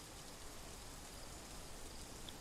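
Rain falling in the dinosaur survival game The Isle, a steady soft hiss of drops with an even, continuous wash and no other sounds standing out.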